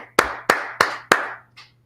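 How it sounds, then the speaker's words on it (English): Four sharp, evenly spaced hand claps ring out in a church brotherhood class, each one with a short echoing tail, followed by a fainter fifth clap. "Let's clap it up for the Lord."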